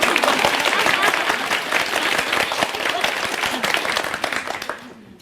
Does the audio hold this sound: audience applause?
yes